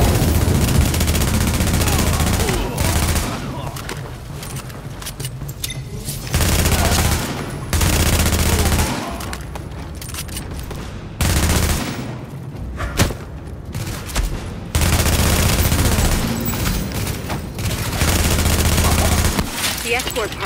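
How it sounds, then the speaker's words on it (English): Heavy, sustained gunfire and automatic bursts roar through a firefight in Tom Clancy's The Division on hard difficulty, loud and dense with brief lulls between long volleys and occasional booming impacts. "The escort party's taking heavy fire from the roof."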